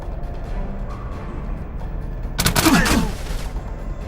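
Crossbowmen loosing a volley in Age of Wonders III, a dense burst of rapid cracking shots lasting about a second, loud over a steady game backdrop, with no voices during the burst.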